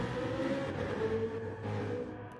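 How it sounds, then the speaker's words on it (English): A field of BMW M3 Gr3 race cars at Catalunya in a racing game holds revs at the start and pulls away together, a steady, moderately quiet engine drone that fades slightly at the end. "Revs are up, just wait for the lights to drop and they're away"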